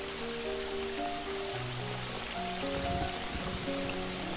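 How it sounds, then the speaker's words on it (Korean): Rain falling in a forest makes a steady, even patter and hiss throughout, with low tonal hums drifting beneath it. "빗소리와 함께"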